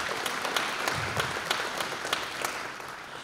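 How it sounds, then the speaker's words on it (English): A round of applause breaks out at a ribbon-cutting ceremony at Las Cruces International Airport, a crowd clapping in a fairly soft, even wash with a few sharper individual claps standing out. "Let's give a round of applause for them."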